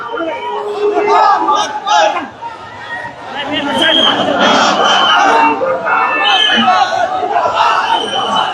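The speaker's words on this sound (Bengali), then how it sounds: "প্রত্যেকে আসলে আল্লাহ আকবার নারাই তাকবির আল্লাহ আকবার সেই স্লোগান কিন্তু আসলে দিচ্ছেন" A large crowd at a March for Gaza rally leaving Baitul Mukarram in Dhaka chants the takbir slogan in loud, rhythmic unison, shouted voices rising and falling over a dense babble of chatter.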